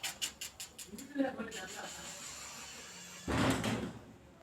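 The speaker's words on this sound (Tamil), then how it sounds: "ரொம்ப கஷ்டமா இருக்குங்க கதவை திறக்க முடியல" A stiff door being pushed hard but refusing to open: a few rapid rattling knocks at the start, then a scraping creak, and finally a louder grinding shove near the end, with a voice talking in the background.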